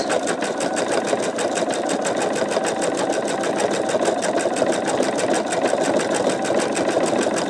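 An embroidery machine stitching out a sugar skull design, a fast, steady mechanical rattle of needle strokes running continuously at even volume, close by, with no talking.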